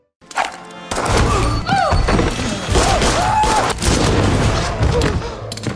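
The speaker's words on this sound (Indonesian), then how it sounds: "Akhirnya mereka pun berhasil menembak panglima yang berkhianat dan juga keponakan Venegas" Gunfire in a film battle scene, with loud repeated shots and booming impacts mixed with shouting voices and chaotic noise, continuing densely for several seconds.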